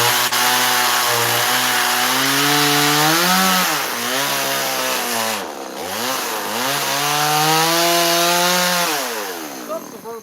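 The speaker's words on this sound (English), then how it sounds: "They should make a competition out of chipping wood with a chainsaw." Chainsaw cutting and chipping wood during carving, engine holding a high whine that bogs and dips as the chain bites, then revs back up, loud and close.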